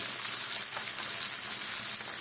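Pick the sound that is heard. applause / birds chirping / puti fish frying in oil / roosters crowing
puti fish frying in oil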